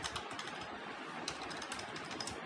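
Java code being typed on a computer keyboard, a quiet, steady patter of key clicks close by, continuous without pauses or talk.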